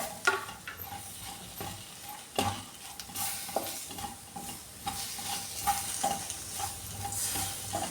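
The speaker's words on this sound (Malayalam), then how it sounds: "ഈ പൊടികളുടെ പച്ച ഫ്ലേവർ മാറാൻ നന്നായിട്ടൊന്ന് ചൂടാക്കി എടുക്കാമേ" Chili and other spice powders stirred and fried in a pan over low flame for chickpea curry: a soft continuous sizzle under repeated scraping strokes of a spoon against the pan, close up, with no talk.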